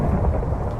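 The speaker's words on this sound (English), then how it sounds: "this storm is way loud" A loud thunderstorm in Minecraft with the Botania mod, a deep continuous rumble of thunder mixed with rain, close and heavy throughout, with no voices.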